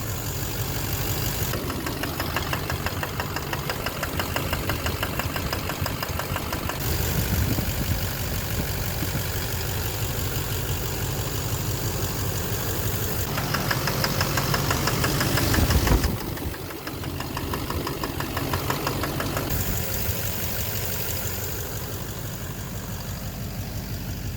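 A Duramax LMM diesel engine with a knock idles in drive, a steady rough low rumble running continuously near the listener with a slight swell toward the end.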